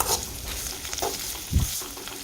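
Sliced onions sautéing in oil in a pan for homemade hair oil, a soft steady sizzle with a few stirring scrapes and one louder clatter partway through.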